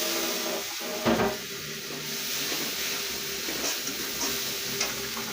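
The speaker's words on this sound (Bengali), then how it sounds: "পানি দিয়ে কষিয়ে নেব" Spice paste with chili and turmeric powder frying in a pan for a papaya and fish curry, water added, a steady close sizzle and hiss with occasional scraping stirs and small bursts.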